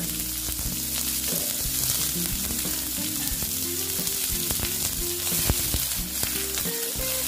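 Chopped onion frying in a pan, giving a loud, dense and continuous sizzle that holds steady throughout, with a faint tonal hum underneath.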